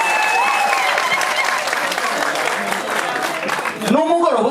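Wedding guests at a celebration applaud loudly and steadily, a dense wash of clapping from a crowd that fills the whole stretch before briefly giving way to a voice at the end.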